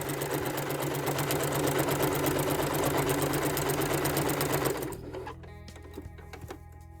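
Sewing machine runs steadily for about five seconds, stitching quilting lines across a small log cabin mug rug, then stops, leaving a few faint handling clicks.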